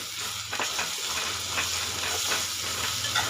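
Ginger garlic paste and turmeric fry in oil for a home-style chicken curry, making a soft, continuous sizzle and hiss with occasional light stirring, close but fairly quiet.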